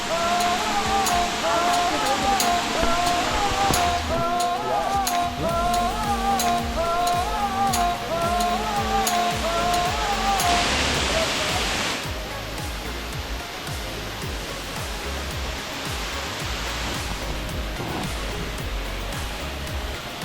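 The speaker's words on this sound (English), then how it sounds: "And here we are, Kelliur Waterfalls." Kiliyur waterfall on the Periyur River in Yercaud's hills roars in a steady, dense wash of falling water, with a brief whining tone over it in the first half before the rushing sound continues alone.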